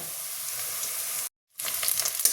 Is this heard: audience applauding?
no